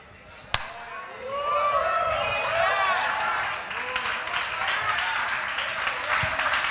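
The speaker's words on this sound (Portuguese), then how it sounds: "Mais forte esse aplauso à palavra do Senhor." A church congregation bursts into applause after a sharp opening hit, loud continuous clapping that builds and holds, with shouts and voices rising through the crowd.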